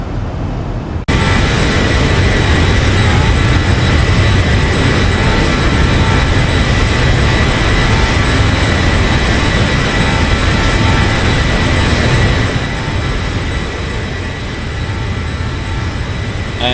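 An aircraft passes by in the flight simulator X-Plane 12 with a loud, continuous engine roar and rushing wind that holds steady for the whole stretch after a sudden start.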